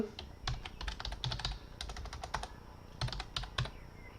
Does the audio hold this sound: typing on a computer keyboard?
yes